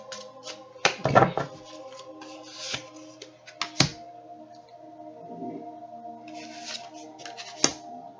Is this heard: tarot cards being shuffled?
yes